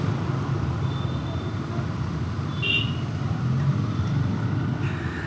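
Steady road traffic noise from a jam on the route between Pune and Karjat, a continuous broadband rumble of idling and slowly moving vehicles with no talk over it.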